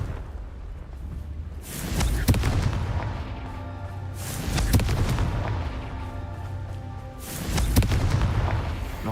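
Three heavy, booming blasts from the Confringo fire spell in Hogwarts Legacy go off a few seconds apart, each a sharp, loud burst trailing into a rumbling decay.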